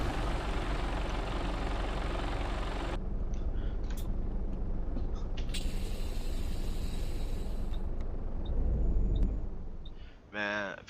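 A Western Star 4800 heavy truck in the American Truck Simulator game starts up, a steady loud engine roar that shifts partway through and rises into a brief revving whine near the end.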